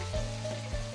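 Fish frying in very hot oil gives a steady, continuous sizzle with a low hum underneath, close and fairly quiet, with no talking.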